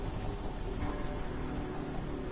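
Steady, dense rainfall in the Sherlock Holmes: The Awakened video game, a continuous loud hiss of drops pattering on surfaces with no pauses, heard alone without speech.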